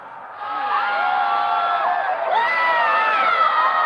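A large stadium crowd at a cricket match cheers and roars continuously after a big hit that lands among the spectators, with whoops and shrill shouts rising partway through.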